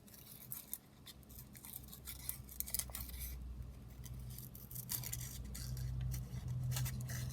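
Scissors snip through a stamped paper butterfly shape, a string of close, crisp cuts in irregular bursts over a faint background hum, with no one talking.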